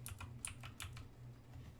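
Fingers tap quickly on a computer keyboard, a faint run of light clicks over a low background hum, with no voices.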